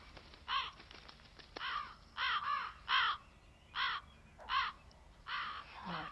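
Crows caw in a scene from the 2003 horror film Jeepers Creepers 2, a series of harsh, repeated calls at a steady rhythm over a quiet background.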